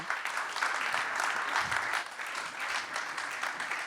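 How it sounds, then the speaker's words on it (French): A room full of people clapping at an award ceremony, steady mid-loud applause with a few heavier individual claps, lasting a few seconds with no talking over it. "Allez, on peut les applaudir"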